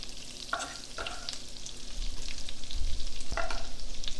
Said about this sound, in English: I am going to slice up these sage leaves a little bit. Get those in the butter.